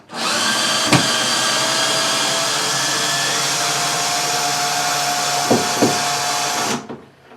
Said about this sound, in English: Or you can use an electric screwdriver just to take the screws out.